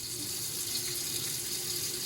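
Tap water runs in a steady, even stream into a large stock pot fitted with a canning rack, being filled for water bath canning.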